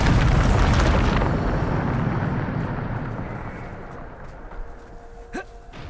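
A Bombarda spell blast in the game Hogwarts Legacy erupts as a loud, booming rumble that fills the first second, then slowly fades into a long dull tail with a faint sharp crack near the end.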